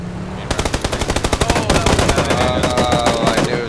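Rapid automatic gunfire in PUBG, a dense burst of loud, close shots rattling in quick succession for several seconds, with other shots and game sounds layered underneath.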